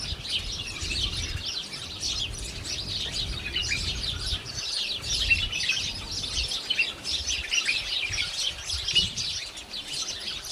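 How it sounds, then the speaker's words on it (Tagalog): A dense flock of small birds chirps and twitters continuously, a busy overlapping chorus over low background rumble. "Yan, ang dami-dami ng ibon, ang ingay-ingay nila."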